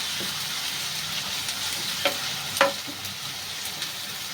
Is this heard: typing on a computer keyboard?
no